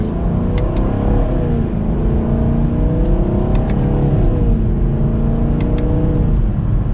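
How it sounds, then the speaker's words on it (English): A 2023 Chevrolet Camaro 2SS 1LE V8 revs and accelerates with a deep, steady roar, rising and falling in pitch across several gear changes, with faint exhaust crackles. "give it another acceleration so you can hear what this V8 sounds like"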